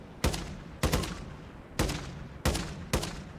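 Gunfire in Call of Duty Modern Warfare 3 Zombies: five sharp, loud single shots spaced about half a second to a second apart, each with a short decaying tail, with no talking.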